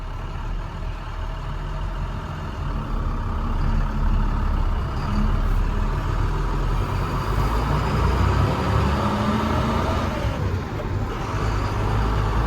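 An International 4300 digger derrick truck with a Terex boom and manual transmission pulls away, its diesel engine giving a loud, close, steady rumble that holds and swells slightly as it drives, with no voices.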